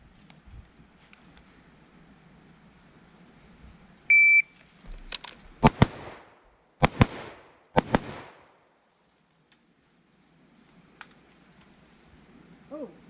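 Gunshots from a close-quarters combat training drill in a riverbed, a beep starting a string of sharp, loud reports that come in pairs and short bursts a second or so apart, with quiet outdoor air before and after.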